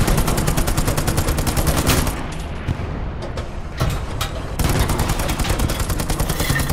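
Dense, continuous gunfire in the WWII shooter Hell Let Loose, rapid automatic bursts heard from inside a tank, loud and close, briefly thinning in the middle before the rattling fire resumes, with no talk.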